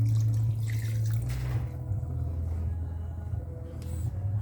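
Coconut milk being poured into a cooking pot, a steady liquid rush and gurgle heard close up over a continuous low rumble, with a few faint drips near the end.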